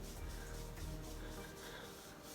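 Cotton pad soaked in bi-phase makeup remover rubbed across the face, a close, steady scratchy rubbing that goes on throughout with no talking.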